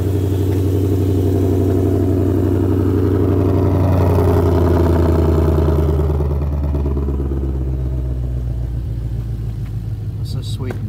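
A 2020 Ford Mustang GT500 Track Pack with carbon fiber wheels launching at a drag strip: a loud, close engine roar on launch control that surges and climbs, then fades as the car pulls away.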